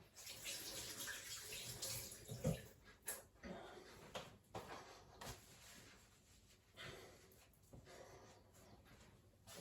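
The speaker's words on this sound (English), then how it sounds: "got to wash my hands now" Water runs from a kitchen tap while hands are washed beneath it, a continuous quiet splashing close by with occasional louder clunks and knocks.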